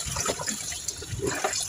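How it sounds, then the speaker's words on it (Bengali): Freshly cut fish is rinsed in water in a kitchen, a short, close sloshing and splashing of water over the pieces. "মাছ কাটার পরে এই যে মাছগুলো এবার ধুয়ে নিব।"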